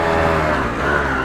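A Yamaha YZ250 two-stroke dirt bike engine pulls steadily in third gear off-road, a loud, close, sustained buzzing drone with no talk over it.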